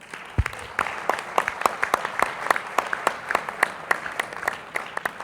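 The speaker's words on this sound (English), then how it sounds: "Round of applause for our panelists." A conference audience at a plenary on carbon project financing applauds the panelists, a thin, fairly sparse round of claps with distinct sharp hand strikes standing out, steady for several seconds.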